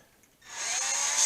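A handheld power drill spins up to bore holes in a wood stand for a portable band saw, its high whine starting abruptly after a short silence and holding steady and close.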